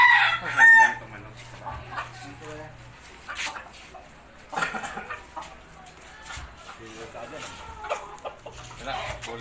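Rooster crowing close by in a yard where a chicken game is being played: a loud crow opens, followed by scattered clucks and bird calls among frequent talking voices.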